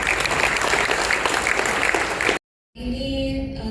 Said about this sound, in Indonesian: Mungkin bisa tepuk tangan Bapak Ibu.